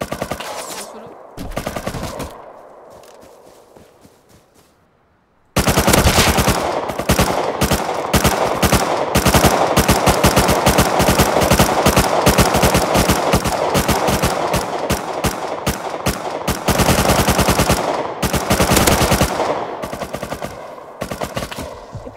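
AK and MP5 gunfire in the survival game Rust, a few short bursts followed by long sustained rapid automatic fire, loud and dense, with brief gaps near the end.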